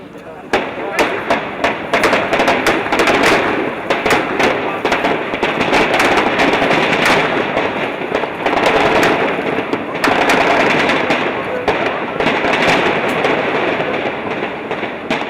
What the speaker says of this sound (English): the second series of explosions and heavy gunfire rented the air once again